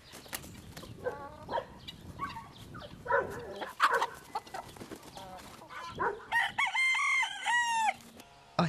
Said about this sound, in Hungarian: A kakas nagyobb és hivalkodóbb a tyúknál, fejét élénkvörös taraj ékesíti.